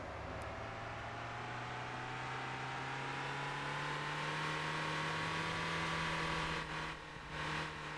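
A car engine hums steadily while driving in the video game Motor Town, a low, even drone with slowly rising pitch and a brief dip near the end, no voices over it.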